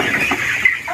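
Chicks about 25 days old on a poultry farm in Côte d'Ivoire let out a short burst of high, thin peeping, close and fairly loud, for under a second, with no voices.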